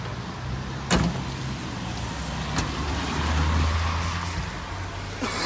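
A Mazda RX8 with stage 1 tuning has its car door opened, giving a sharp click and thud near the start and another latch knock later, over a steady low idling engine rumble.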